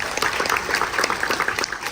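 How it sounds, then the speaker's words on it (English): A theater audience aboard the cruise ship Odyssey of the Seas gives the technicians a short, lively round of clapping, dense and even throughout the two seconds. "How about a round of applause for them?"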